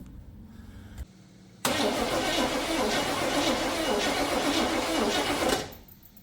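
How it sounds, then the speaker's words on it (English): A 1980 Chevrolet Scottsdale pickup, parked for 26 years and fitted with a fresh battery, cranks over loudly and steadily for about four seconds after a brief click, then winds down without firing. "Let's turn it over now and see how that is with a fresh battery."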